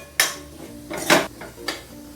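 Metal utensil clinks and scrapes against a pan while tomatoes with garlic and ginger are sautéed, with three distinct sharp clanks spread over a couple of seconds and quiet gaps between.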